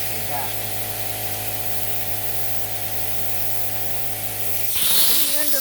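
Steady loud hiss of air escaping from a tire inflator hose in a tire-changing shop, holding constant for several seconds and then breaking off into a brief clatter at the end.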